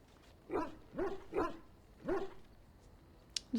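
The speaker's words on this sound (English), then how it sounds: "It's barking." A dog barks in the video game Dragon Age: Origins, four distinct mid-pitched barks in an irregular rhythm over quiet background ambience, followed by a couple of brief faint clicks.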